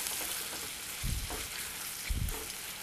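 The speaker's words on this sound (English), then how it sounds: "And then we'll add the shrimp, let them go for a swim in that garlic butter." Shrimp hit hot garlic butter in a sauté pan and set off a low, even sizzle, with two brief louder bursts of spatter and stirring about a second apart and no talking.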